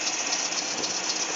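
A Ford Safari van's 4.3 engine runs with a steady, continuous high squeak from the front of the engine near the fan clutch, close and unbroken over a constant mechanical hum.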